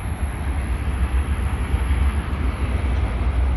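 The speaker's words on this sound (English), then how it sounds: "I love seeing that beautiful train. It's so relaxing to hear." Steady low rumble of a train running on distant tracks, heard from a nature walk overlook, a continuous deep roar with no clear beginning or end.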